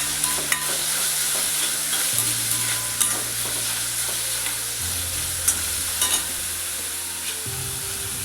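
Onions sautéing in a frying pan for a baby potato fry, a steady close sizzle with occasional stirring scrapes and light clinks, continuous throughout with no talking.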